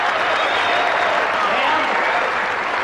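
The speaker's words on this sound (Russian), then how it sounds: "Давайте ему похлопаем." Audience applauding a performer at a comedy show, a steady dense wash of clapping that holds at full strength from start to finish with no voices over it.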